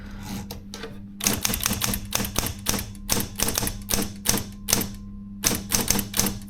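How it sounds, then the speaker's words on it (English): A Silver Reed typewriter with a Latin keyboard is typed on in quick bursts of sharp, close key clacks, with short pauses between runs. "I was quite pleased to type on this machine for the typing test"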